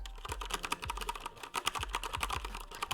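Keys on a Corsair K70 RGB TKL mechanical keyboard clack in a rapid, continuous typing rhythm, close and crisp, with no voices.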